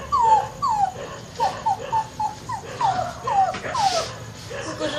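A voice imitates a newborn puppy whimpering for its mother, a run of about a dozen high, falling whines and yips in quick succession, close and clear.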